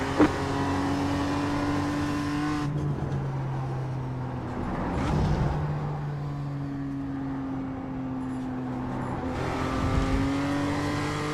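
A race car engine in the iRacing sim, a loud steady droning whine that shifts pitch through gear changes and throttle lifts, with brief tire noise in the middle of the lap, heard alone from in-car.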